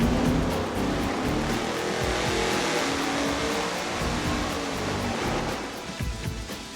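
A 1,000 HP engine with a MagnaFlow straight-through muffler roars steadily at high load, a loud broadband exhaust drone held for several seconds before easing slightly near the end, with no talk.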